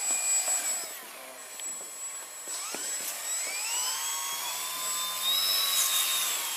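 An indoor radio-controlled model airplane motor whines at high pitch, rising and falling as it throttles and passes, fairly close in a hall, with no talk over it.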